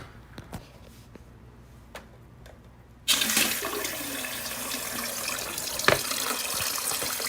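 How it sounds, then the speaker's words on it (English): A Better Butts bidet's nozzle-cleaning spray switches on abruptly after a few quiet seconds of small clicks, then hisses as a loud, steady rush of water that continues to the end. "Has 2 settings. One, to clean the nozzle."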